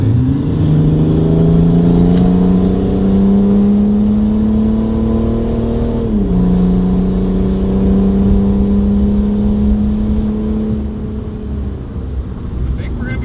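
A salvaged BMW 335d diesel pulls hard under full throttle, its engine note rising steadily and loud, dipping briefly at a gear change around the middle before climbing again, with a constant roar throughout.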